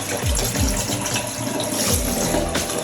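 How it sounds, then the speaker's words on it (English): Water runs from a wall-mounted faucet into a draining sink in a renovated tiny home, a steady close splashing flow with a few low gurgling knocks and no talking. "the water is coming from the wall into the sink, which is draining"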